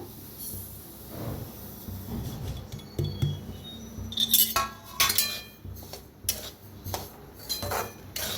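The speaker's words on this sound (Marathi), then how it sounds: "रवा आता छान असा भाजून घेऊया आपण" Semolina (rava) roasting in a pan for karanji, stirred with a utensil that clinks and scrapes against the metal, giving irregular close-up scratches and taps that grow busier in the second half, with no voice over them.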